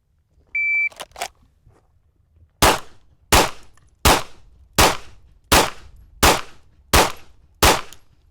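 Eight sharp, loud gunshots ring out at an even, steady pace during a timed shooting drill, preceded by a short electronic shot-timer beep and a couple of faint clicks.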